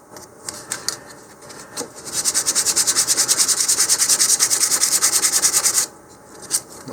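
A long spindly rocket fin coated with sanding sealer is sanded by hand. A few short scrapes lead into a fast, even run of back-and-forth strokes lasting several seconds, then stop with one last rub.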